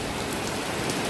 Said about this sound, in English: It's wet way back here. All the rain.